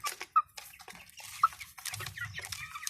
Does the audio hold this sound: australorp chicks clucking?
yes